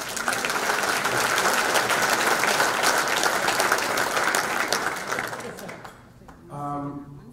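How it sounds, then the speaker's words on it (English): An audience at a football dinner applauds loudly and steadily for several seconds, then the clapping fades out and a voice begins to speak. "giving a round of applause for yourselves"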